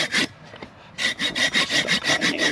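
A hand saw cuts through a piece of ash wood, giving steady rhythmic rasping strokes, about eight close and fairly loud pushes after a brief pause, with no talking.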